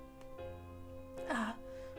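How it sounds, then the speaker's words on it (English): A single short throat-clearing cough near the middle, over a steady humming background. "I give an embarrassed cough"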